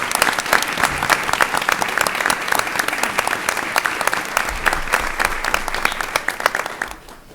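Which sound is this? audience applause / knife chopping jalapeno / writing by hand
audience applause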